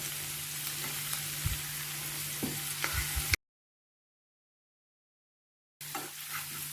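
Three finely sliced green chillies sizzle in hot oil in a pan while making chicken cutlet filling, a steady close frying hiss with a few stirring knocks, cut by a silent gap before the sizzle resumes.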